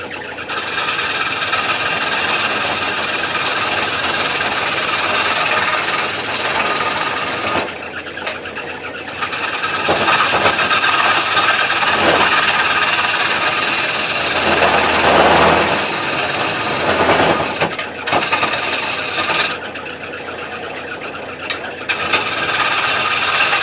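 A new wood lathe turns a wooden bowl in a home shop, giving a steady loud whirring rumble with scraping tool passes that rise and fall across the whole stretch, briefly dipping between cuts.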